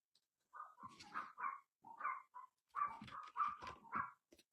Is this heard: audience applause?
no